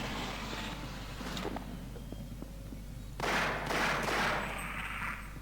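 Gunfire in Half-Life Source: a couple of faint early cracks, then a louder burst of two close shots with a broad noisy blast, over a steady low game hum.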